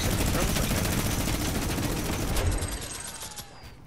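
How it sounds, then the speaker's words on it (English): A minigun fires in a video game as one continuous rapid burst of dense, loud gunfire. It cuts off about two and a half seconds in, leaving fainter background game noise. "Stop shooting me down! And get off that minigun!"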